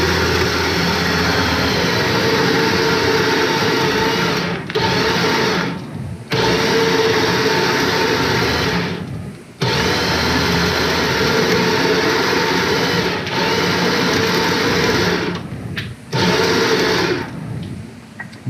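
Otter skinning machine running through a pelt: a loud, continuous mechanical whir and rumble close by, broken by several short dips where it slows or catches, without talk.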